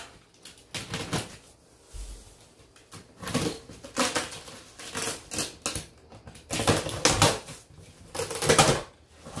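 A cardboard shipping box for an Orion SkyQuest XT10 Plus telescope is cut open with a blade, giving bursts of scraping, slicing and crinkling in several uneven clusters, close and fairly loud, with no talking.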